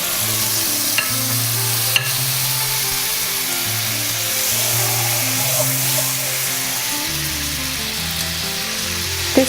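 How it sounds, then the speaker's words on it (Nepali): Butter sizzles in a hot pan while white sauce pasta is being made, giving a loud, steady, close frying hiss that runs without pause for nearly ten seconds, with faint tonal hum beneath and no voices. "प्यान तातिसकेपछि म यसमा बटर राखिदिन्छु।"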